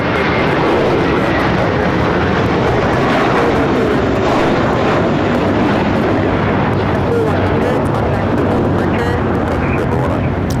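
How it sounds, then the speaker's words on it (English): A JetBlue Airbus A321 taking off at LAX, bound for Fort Lauderdale, gives a loud, continuous jet roar that fills the whole stretch without easing. "This is JetBlue 100 taking off to Fort Lauderdale on the A321 Suavemente."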